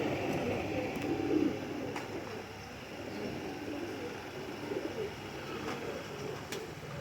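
Pigeons of a golden breeding pair coo softly, a low, steady murmur held close over faint background hum with no talk.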